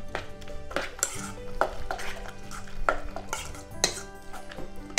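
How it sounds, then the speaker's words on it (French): Mushrooms seasoned with salt and pepper are stirred in a pan, with a spoon scraping and clinking against the metal in a quick irregular rhythm over a light sizzle, close and without talk. "On peut commencer à remuer"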